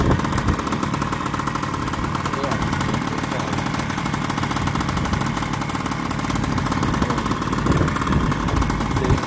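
A Peugeot Jet Force 50 two-stroke scooter, bored to 72cc and fitted with an unusually large exhaust, runs steadily with a loud, buzzy, rattling drone at close range that holds throughout with no breaks.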